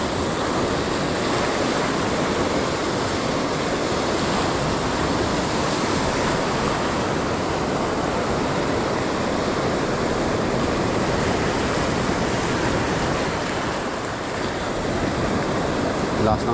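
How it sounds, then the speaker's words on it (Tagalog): Strong sea waves break on the shore, a continuous loud roaring wash of surf with wind, steady for the whole stretch with no clear pauses. "Lakas ng alon."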